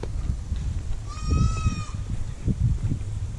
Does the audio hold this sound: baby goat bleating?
yes